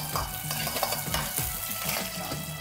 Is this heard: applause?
no